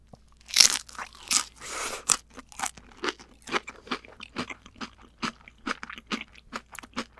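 Crunchy pop chips dipped in guacamole sauce bitten and chewed close up, a series of sharp crisp crunches followed by steady rhythmic chewing crackles, alone with no talk.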